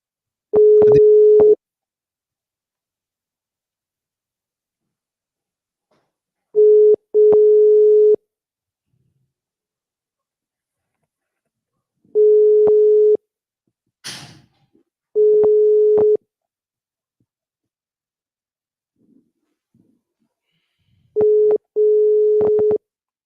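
Repeating single-pitch phone tone on a call that is not connecting, sounding in several steady beeps with long silent gaps between them, clear and alone with no talking.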